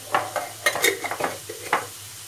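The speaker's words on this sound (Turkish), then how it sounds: "Şöyle güzelce biraz kavurduktan sonra mantardan ilave edeceğim." A spoon stirs and scrapes through spinach frying in a hot pan, with short clacks and a faint sizzle underneath, close by.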